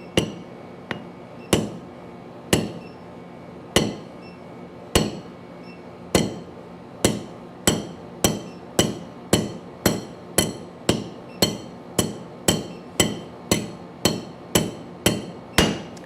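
A sledgehammer forging hot metal on an anvil with a short horn at a forge: sharp ringing metallic strikes, sparse at first, then settling into a fast, steady rhythm of roughly twenty loud, close blows.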